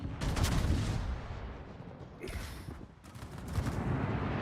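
Naval guns fire during a World of Warships battle, with heavy booming salvos and rumbling blasts at the start, then further bursts of shots later, loud against a continuous low battle rumble.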